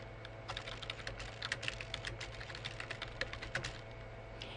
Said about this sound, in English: you would type the first question